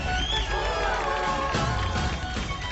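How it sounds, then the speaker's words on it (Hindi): An audience at a televised singing competition claps and cheers after a performance, a dense, steady wash of applause with whoops, loud and continuous throughout. "जोरदार तालियां बजाइए।"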